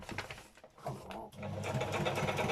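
A sewing machine stitches through paper journal pages in quick rattling bursts, pausing briefly before running again in a steady, close-up whir.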